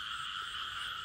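A chorus of frogs croaks steadily at a night frog-hunting spot in rural Vietnam, a faint but unbroken layered trill heard alone for a brief moment.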